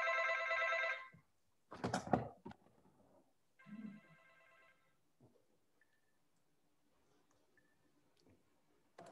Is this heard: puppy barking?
no